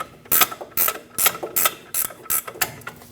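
A ratchet clicks in seven quick, evenly spaced bursts while snugging down the upper ball joint nut on a 2001-2006 Chevrolet Silverado 2500 HD, loud and close, with no talk.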